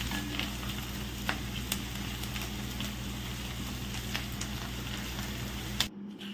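Fat-free beef roast fries in a pan, giving a continuous close sizzle with soft stirring scrapes and occasional clicks of the spoon, then it cuts off abruptly near the end.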